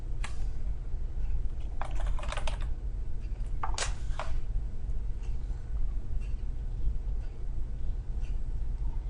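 Soft keyboard typing in short bursts of clicks against a steady low background hum, with pauses between keystrokes.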